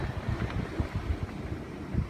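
Gusty wind buffets the microphone in low rumbling bursts over a steady background of open sea water off North Wales during fishing, with no talking.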